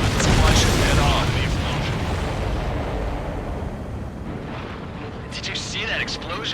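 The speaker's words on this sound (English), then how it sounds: "Did you see that explosion?" A supply ship blows up after a missile strike in the Ace Combat 7 flight combat game, a loud, sustained rumbling blast that slowly fades under continuing roar, with voice chatter over the end.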